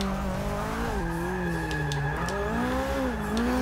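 Steady tire squeal from a Toyota GT86 sliding through a drift in Forza Motorsport 6, a wavering screech over a constant engine drone, loud and close with no talk.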